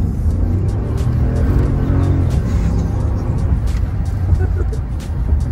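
A new car driving along, its steady low engine and road rumble continuous throughout, with a voice speaking over it.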